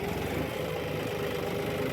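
A John Deere 5210 GearPro tractor engine runs at a steady, moderate RPM while ploughing, giving a continuous low mechanical drone with a slight knock, close and even throughout with no talk.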